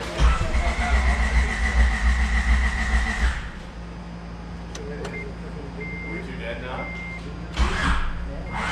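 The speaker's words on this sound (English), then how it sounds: "now we gotta pull the car back forward" An AWD turbo Honda Civic wagon on a dyno, suspected of hydrolock, runs loudly for a few seconds before the engine note drops away to a quiet hum with faint beeps, then a loud burst returns near the end.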